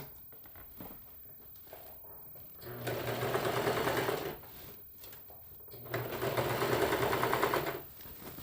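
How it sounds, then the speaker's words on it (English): A serger overlocks the edges of thick fabric sleeves, running slowly in two whirring bursts of rapid mechanical stitching separated by quiet pauses, close and loud against a faint room background. "I'm going to go ahead and serge my sleeves"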